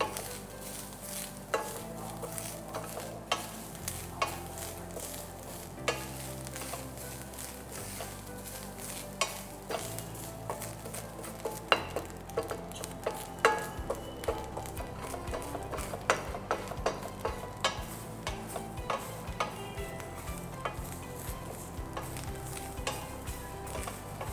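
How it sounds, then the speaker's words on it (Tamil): Grated coconut being roasted brown in a pan for a Kerala onion and drumstick theeyal, with soft frying crackle under repeated spoon scrapes and taps against the pan, no talk. "இந்த தேங்காய் ப்ரௌன் கலரில் வறுத்துடணும்"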